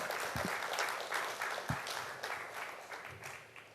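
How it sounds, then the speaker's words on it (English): An audience at a results ceremony applauds singer Mildred Chalmers, a steady wash of many hands clapping, moderately distant and soft, with a few louder close claps and thumps near the start. "Could you please give her a round of applause again?"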